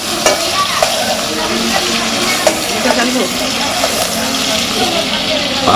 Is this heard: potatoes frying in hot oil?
yes